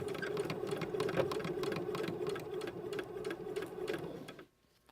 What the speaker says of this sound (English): we're going to go back to the machine and we're going to stitch this right on that very edge of that fold